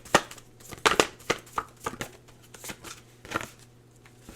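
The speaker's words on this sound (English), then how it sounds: "Just gonna pull some oracle cards for you here." A deck of oracle cards being shuffled, close and fairly quiet, a series of irregular papery riffles and snaps scattered across about four seconds.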